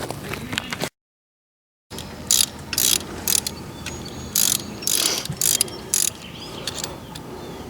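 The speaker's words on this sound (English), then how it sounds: "grab you a 5/8 socket out of there and take that bouncer bolt out" Ratcheting clicks from a 5/8 socket wrench loosening the harmonic balancer bolt on a Camaro, a series of short near bursts at irregular intervals over low garage background noise.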